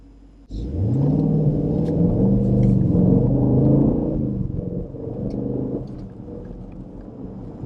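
A 2015 Jeep SRT engine rumbles loudly and close while accelerating mildly, a deep, rising growl that swells for a few seconds and then eases off into a lower, steadier drone, with no talking.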